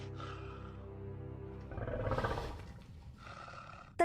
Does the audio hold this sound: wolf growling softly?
yes